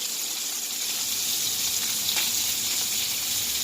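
Chopped onion, mushroom, mixed pepper and zucchini sizzle loudly in a hot pan, a dense, steady frying hiss with faint stirring.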